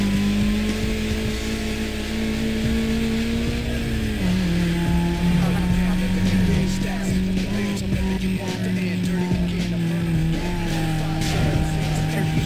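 A Chevrolet in Need for Speed Most Wanted drives with a steady droning engine whose pitch drops at gear changes, close and continuous, with a faint voice underneath.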